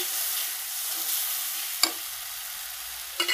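Spice mixture for a soybean curry being stir-fried in a pan: a steady, close sizzling hiss throughout, broken by two sharp scrapes of a spatula.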